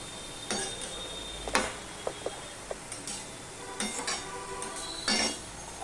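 Pumpkin shoots and leaves are stirred in a pan with a series of light, sparse clinks and taps of a utensil against metal, spaced irregularly over quiet background noise.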